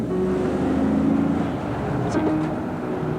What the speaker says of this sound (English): It's a big, old American-style V8, and it has a good deal of acceleration roar.